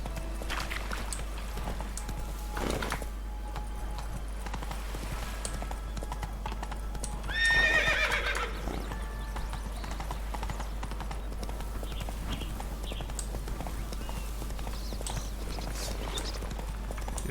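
A horse's hooves clip-clop steadily in The Witcher 3 video game, a continuous rhythmic beat over ambient game sound, with a brief louder burst near the middle.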